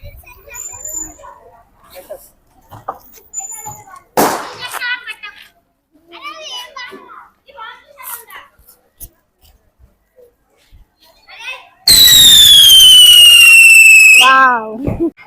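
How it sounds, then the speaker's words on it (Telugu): A whistling bhoo chakra ground spinner firecracker fires near the end with a loud, piercing whistle that slides downward over about three seconds, after scattered children's voices and chatter. "సో ఇది విజిల్ భూచక్ర అనమాట ఇప్పుడు ఇది ఎలా సౌండ్ వస్తుందో చూద్దాం"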